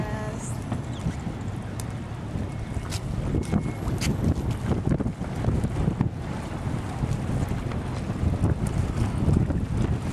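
A boat moves across open water near Singapore, with a steady wash of water and engine rumble under heavy wind buffeting on the microphone, continuous and close throughout.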